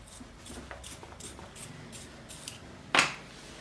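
A 5B drawing pencil is sharpened in a series of quick, rhythmic scraping strokes, about eight short rasps close by, followed by one louder sharp scrape near the end.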